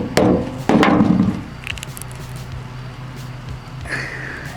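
A black walnut struck and smashed open, with two loud, close impacts followed by crunching and rubbing of shell, then quieter handling sounds over low background noise.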